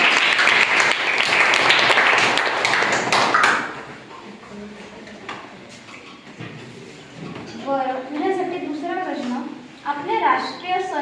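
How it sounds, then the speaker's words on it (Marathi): Schoolchildren in a classroom quiz clap together in a loud burst of applause for a classmate, which fades after a few seconds into nearby talk. "नूतनसाठी सगळ्यांनी टाळ्या वाजवायच्या"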